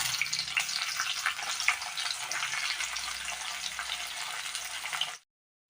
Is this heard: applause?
no